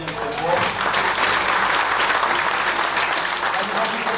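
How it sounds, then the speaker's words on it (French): A crowd applauds loudly at an event presentation, a dense continuous roar of clapping that holds steady for several seconds with a few voices faintly mixed in. "on peut les applaudir très fort"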